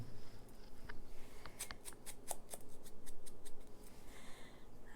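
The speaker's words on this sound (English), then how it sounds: "the top where it's folded, just gonna cut a little bit off" Scissors snip through a folded junk mail envelope, trimming off the top edge in a few short, crisp cuts with light paper rustle between them, close and fairly quiet.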